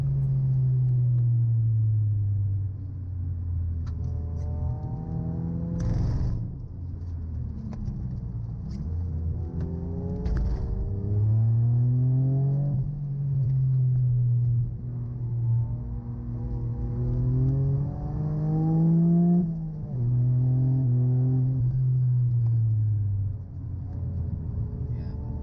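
A Mazda MX-5 lapping the Anglesey track holds a continuous engine drone, its pitch climbing and dropping through gear changes and corners, heard from inside the car.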